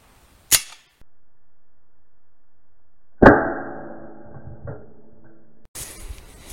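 A PCP air rifle fires at a target with a sharp, loud crack, then after a quiet pause comes a second close report with a short metallic ring, followed by a brief clunk.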